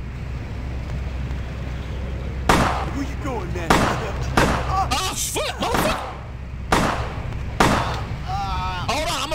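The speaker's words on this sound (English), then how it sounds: "so I hear gunshots" Heavy gunshots in the video game Vampire: The Masquerade - Bloodlines boom at irregular intervals over a steady rumbling background, with a man exclaiming between the blasts.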